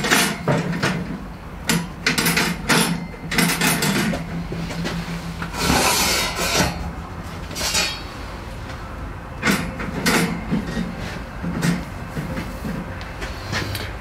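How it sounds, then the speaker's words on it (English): Metal grill grates are set back into a grill during a live grilling session. Close scraping clanks and rattles repeat over a steady background noise. "Put the grill grates back in."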